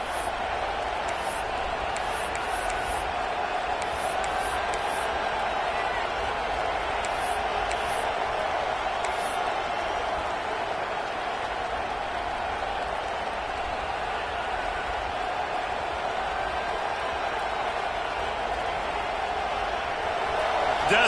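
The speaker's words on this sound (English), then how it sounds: "Decibels rising as the crowd gets behind this defense on 3rd down" Steady roar of a football stadium crowd in a college football video game (NCAA 26), sustained and loud throughout, with scattered whistles and cheers rising on a third down.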